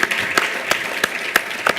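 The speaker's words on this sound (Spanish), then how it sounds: "Así que pido un aplauso para Antonio y su equipo," Dense applause from a crowd at an entrepreneurs' congress, a steady wash of many hands clapping, with a few sharper claps standing out.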